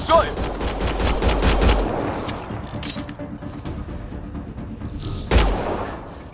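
Gunfire in the sci-fi game Mass Effect: Andromeda: a loud close automatic burst that fades into scattered shots and mechanical clatter, then one sharp report near the end.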